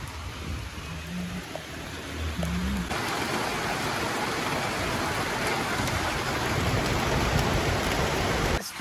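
Rain falls on a tin sheet roof, a dense steady hiss that swells heavier and louder after the first few seconds and keeps drumming evenly to the end.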